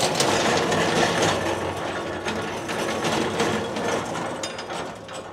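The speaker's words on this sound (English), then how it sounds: "you won't believe how easily this rolls with those heavy-duty greasable casters" A heavy tool rack loaded with about 300 pounds rolls on heavy-duty greasable casters, giving a continuous close rumble with fine clicking and rattling that fades slightly toward the end.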